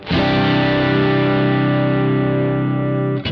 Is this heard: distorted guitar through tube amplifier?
yes